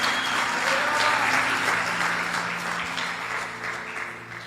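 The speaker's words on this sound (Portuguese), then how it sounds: "Aplauda ao Senhor bem forte." A church congregation applauding loudly and continuously, a dense wash of many hands clapping close by that holds strong and then tapers slightly toward the end.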